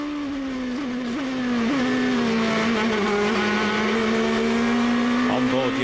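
Near, loud on-board engine of a GP2 race car at the Spain round, a steady high-pitched whine that dips and climbs through gear changes, with commentary heard beneath it.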